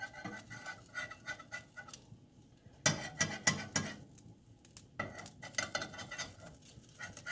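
Spatula scraping and knocking against a Blue Diamond non-stick pan while food is flipped, several sharp close clatters in bursts separated by quiet gaps.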